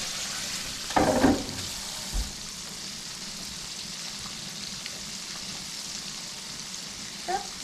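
Food frying in a pan gives a steady, soft sizzle with crackles. A clatter of utensils near the start and a faint knock near the end break it.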